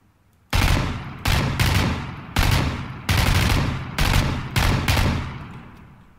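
Seven bursts of LMG fire in PUBG Battlegrounds, each a loud, dense rattle lasting about half a second, spaced by short pauses and fired close up with no talk.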